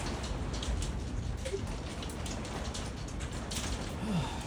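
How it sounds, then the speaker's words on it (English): Small hail falls steadily during a severe thunderstorm with gusty winds in Troy, Illinois, a dense continuous patter of pellets striking a surface close by, with a few sharper individual impacts standing out. "This is hail, guys."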